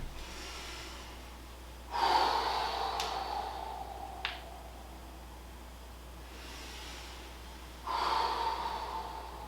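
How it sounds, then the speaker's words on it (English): A person takes a deep inhale and a forceful exhale while doing a bodyweight squat. Two loud, close breathy rushes are separated by quiet, with a couple of short clicks in between. "I start the inhale, pressure builds. When it sort of peaks, I exhale and I stand the rest of the way up."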